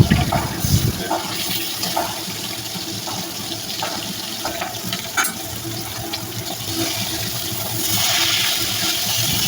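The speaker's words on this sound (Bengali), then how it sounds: "মাছগুলো উল্টে পাল্টে একটু মচমচি করে ভাজি করে নেব" Pieces of rohu fish fry crisp in hot oil as they are turned, a dense close sizzle broken by occasional light clicks and clatters, swelling slightly toward the end.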